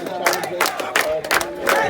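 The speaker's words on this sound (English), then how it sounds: "The crowd has gathered here." Protest crowd shouting outside a residence at Fort Jeudy, Grenada, with repeated rhythmic chant-like shouts rising and falling about every third of a second, fairly close and loud.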